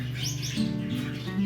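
A male Gouldian finch calls from close by with a few short chirps and a thin sustained note, heard clearly over a low, steady background hum.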